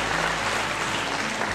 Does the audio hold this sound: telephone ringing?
no